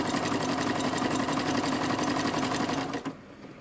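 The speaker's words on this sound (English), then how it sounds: "Yeah, the sewing machine." Sewing machine running steadily at close range while stitching fabric toy squirrels, with a fast, even mechanical whir that continues for about three seconds and then stops abruptly.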